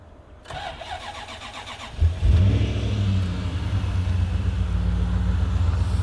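Toyota FJ40 Land Cruiser with a 1UZ-FE V8 conversion starting up: a starter motor whirrs and cranks, then the engine catches with a loud burst and settles into a deep, steady idle close by.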